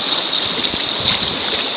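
Steady broadband rush of river water during slow, beginner-level white-water rafting in Korea, continuous and fairly close, with faint low knocks from the boat.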